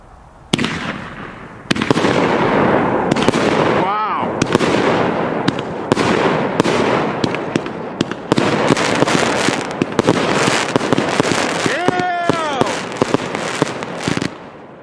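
Fireworks burst in rapid, dense succession for most of the stretch, loud sharp pops and crackles with occasional whistling rises, while voices exclaim faintly beneath the barrage.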